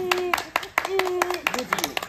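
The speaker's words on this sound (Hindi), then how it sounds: "ताली" Irregular sharp hand claps from a few people at a comic village wedding scene, close and distinct, mixed with voices talking and calling out over them.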